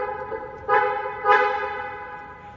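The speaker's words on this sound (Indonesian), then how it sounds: "Untuk bunyi klakson" Horn of a Mercedes-Benz C 300 AMG Final Edition W205 facelift gives two honks, a sustained steady tone rising sharply at each press and then fading, loud and close.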